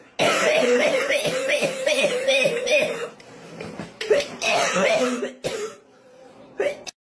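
A person coughs and clears their throat in several rough bursts, close and fairly loud, with other voice sounds between the fits.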